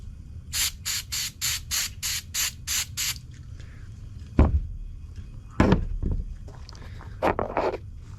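A rapid series of about eight short hissing sprays of aerosol throttle body and air intake cleaner, evenly spaced, on an L5P Duramax, followed by a few clunks and scattered handling noises.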